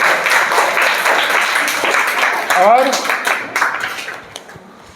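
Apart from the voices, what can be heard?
classroom applause, students clapping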